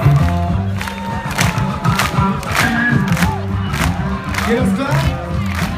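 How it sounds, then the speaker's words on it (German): Concert crowd at a live show at Eier mit Speck 2015 clapping hands in time, steady rhythmic claps with cheering and shouts throughout, while someone speaks German over the din. "Solange klatscht ihr die Hände im Takt."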